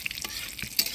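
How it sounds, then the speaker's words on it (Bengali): Dry red chillies, bay leaves and whole cumin frying in hot oil as a tempering for an outdoor winter picnic egg curry, a brief crackling sizzle with a couple of sharper pops and no voices. "ফোড়নে দিয়ে দিব শুকনো লঙ্কা, তেজপাতা, গোটা জিরা।"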